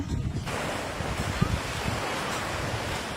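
Beach atmosphere with steady wind buffeting the microphone and waves washing in, a constant loud roar without pause.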